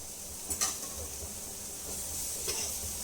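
Pumpkin pieces fry with masala on a hot tawa, giving a steady soft sizzle with a couple of brief scraping stirs near the start and end.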